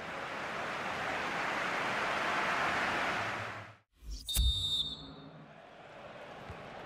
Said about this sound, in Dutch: De scheidsrechter fluit voor de rust bij een stand van 1-0.